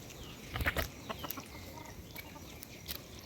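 Black chickens (karunkozhi) cluck in a village in a deep valley, a few short clucks and calls in quick bursts, moderately close but soft, with no talking over them.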